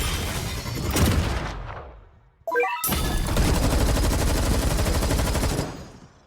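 Rapid gunfire from the anime tower-defense game Anime Vanguards, dense bursts of shots that briefly cut out for a short chime-like effect, then resume in a sustained loud barrage before fading.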